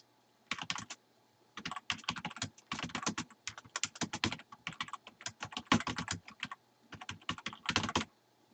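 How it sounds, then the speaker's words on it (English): Quiet, close keystrokes on a computer keyboard come in quick irregular bursts with short pauses between words, alone with no talking. "I'm just going to type something simple."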